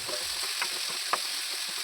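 Finely sliced onions sauté in a pan with a little salt, giving a continuous close hiss and sizzle, with a couple of soft stirring taps.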